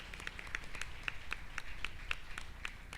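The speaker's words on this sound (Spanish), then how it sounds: "un aplauso para los hermanos que nos vienen a acompañar" Scattered, light clapping at a church anniversary service as visiting members from another congregation are welcomed, sparse hand claps repeating in a loose rhythm, fairly faint and at a distance.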